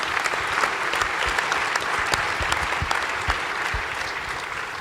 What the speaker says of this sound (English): we owe them a huge round of applause